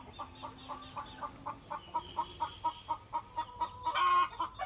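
Rhode Island Red hens cluck in a steady, rhythmic series of short, nasal calls around a homemade bamboo chicken coop, fairly close, ending in a louder burst of squawking.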